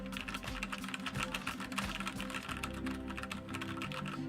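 Soft, steady clatter of typing on a Division Zero X40 mechanical gaming keyboard, fairly quiet and continuous throughout, with no talking.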